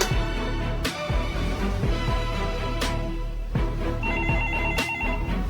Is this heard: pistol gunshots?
no